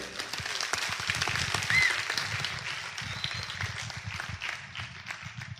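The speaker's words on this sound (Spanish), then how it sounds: "Denle un aplauso al Cristo de la gloria" Church congregation applauding during a sermon, a fairly quiet, diffuse patter of clapping in a large room that swells briefly and then gradually thins out.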